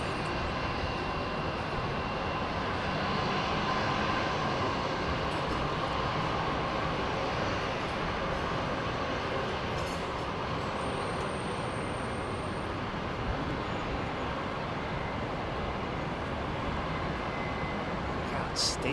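An airliner climbing steeply after takeoff at London Heathrow Airport, a steady broadband jet roar filling the whole stretch at constant loudness, moderately distant.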